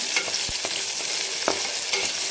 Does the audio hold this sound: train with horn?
no